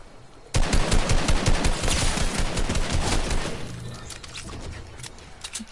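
Rapid automatic gunfire in the video game Fortnite, a sudden dense burst of close, loud shots lasting a few seconds before thinning into scattered fainter shots.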